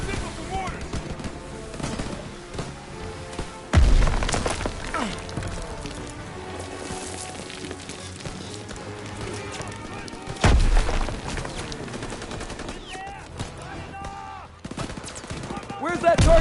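Mortar strikes and gunfire in Call of Duty WWII on the Rhine, with heavy booming impacts landing twice amid a continuous clatter of rifle and machine-gun fire, loud and close, with voices shouting over the battle.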